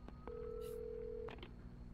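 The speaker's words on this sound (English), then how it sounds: "let's just see if we can use the phone" A telephone in the video game Alan Wake Remastered beeps as buttons are pressed, followed by a steady dial-type tone for about a second, quiet and alone over low background hum.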